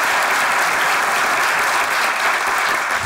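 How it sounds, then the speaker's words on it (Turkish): Dense audience applause in a comedy show studio, loud and continuous clapping from a crowd for the full few seconds, with no speech over it. "Bence bir kere Ayşegül'e bir alkış."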